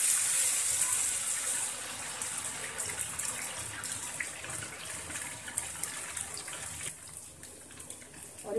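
Ghevar batter is poured into hot ghee and sizzles, a hissing, bubbling fry that surges loud at first and then settles into a softer, crackling simmer.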